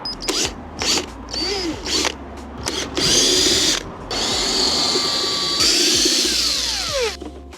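A power drill undoes screws from the lid of an expensive item, with loud bursts of whirring motor and changing pitch as it speeds up and slows, near and continuous over several seconds.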